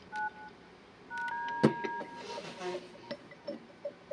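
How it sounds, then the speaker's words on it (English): DTMF keypad tones sound on a door intercom as numbers are dialed, with several short beeps at uneven intervals, a sharp click partway through and some faint background noise. "We press 1, the pound key, the call is made, the connection is established."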